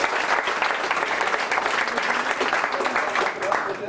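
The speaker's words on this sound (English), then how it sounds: "Round of applause, audience." Crowd at a senior party hypnotist show clapping loudly and continuously, a thick even roar of applause holding steady from start to finish.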